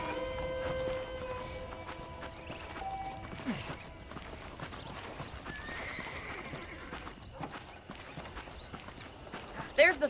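Horses clip-clop and whinny in the Red Dead Redemption video game, faint and steady under a low bed of game ambience and talk.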